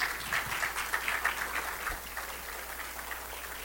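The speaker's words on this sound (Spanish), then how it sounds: "yo les pido que lo puedan recibir con un fuerte aplauso." Church congregation gives a pastor a warm round of applause, a soft, distant-sounding wash of clapping that holds steady and gently fades toward the end.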